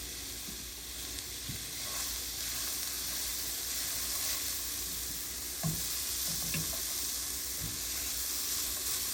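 Sautéed vegetables sizzle steadily in olive oil in a pan, a constant close hiss broken by a few soft clinks and stirring scrapes.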